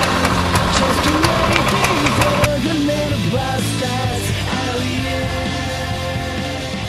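A mini bike engine runs on a cold start with the choke on, a steady nearby drone with a pitch that wavers slightly and rises and falls, with some faint talk.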